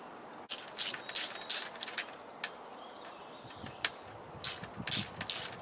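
Bolts being snugged up on an 80cc motorized bicycle build, heard as a series of short, quiet metallic ratcheting clicks in irregular bursts with brief pauses between them.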